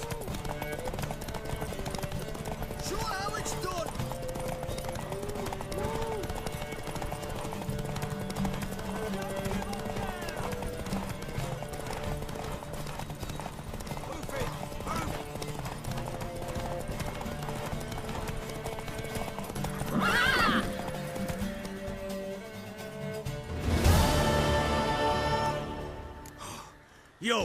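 A horse gallops in The Witcher game, rapid hoofbeats pounding steadily beneath background music and scattered voices, a gasping breath or whinny cutting in near the end before a loud burst of noise.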